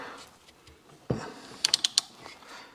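A wrench on a large nut on a transmission pan gives a few quick, crisp ratchet clicks after a dull knock, close and moderately loud with no talk.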